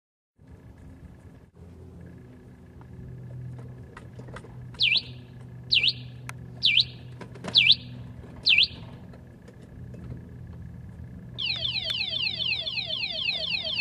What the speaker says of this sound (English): Watch what happens when someone touches the scooter while the alarm is set.